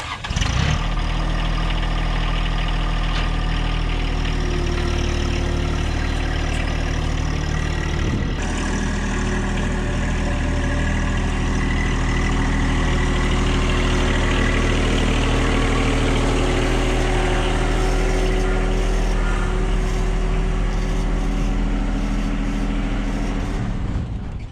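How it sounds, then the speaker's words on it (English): A John Deere 1-Series compact tractor engine runs steadily nearby as it pulls into a shop, a constant low rumbling drone holding an even level for the whole stretch. "Let's go ahead and pull the John Deere into the shop now."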